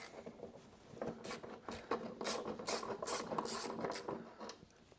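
A hand ratchet backs out a 3/8 bolt on a self-propelled lawn mower, giving a steady close rasping click of the pawl for several seconds, fairly quiet and with no talk.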